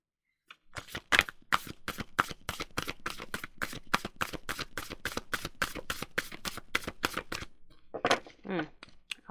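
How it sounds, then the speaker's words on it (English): A deck of tarot cards is shuffled close up in a rapid, even train of crisp riffling flicks lasting several seconds. A softer rustle of handling follows after a brief pause. "I'll do one more shuffle."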